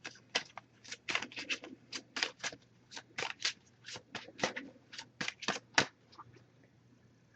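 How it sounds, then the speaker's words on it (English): A deck of oracle cards being shuffled by hand, giving a quick series of crisp riffling and slapping bursts close by, with short pauses between them and no talking. "I did pre-shuffle this deck, but I'm going to give it a few more shuffles."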